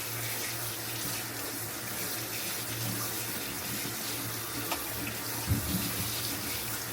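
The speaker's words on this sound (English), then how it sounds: "Put it back into some warm water, let it soak up there for a little bit" Warm water runs steadily from a tap into a sink to soak a shaving brush, a constant close rushing stream alone, with a small clatter near the end.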